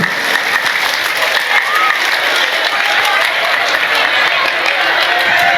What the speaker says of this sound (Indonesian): Tepuk tangan untuk Fatur.